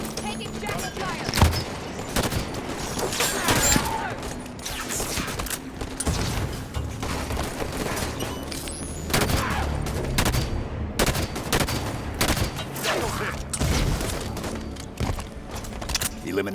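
Gunfire rattles in the video game Halo 5, with dense bursts of automatic fire and sharp single shots repeating close and loud throughout, while voices talk under the shooting.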